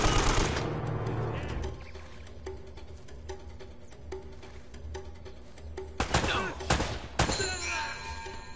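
Gunfire in Uncharted: Drake's Fortune on PlayStation, a rapid machine-gun burst followed by steady repeated shots and sharper blasts near the end, loud against game background noise.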